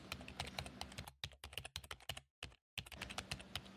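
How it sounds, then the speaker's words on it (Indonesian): Rapid clicking of a computer keyboard as a database command is typed, a quick, fairly quiet burst of keystrokes with brief pauses. "Yang pertama adalah kita ketik show tables."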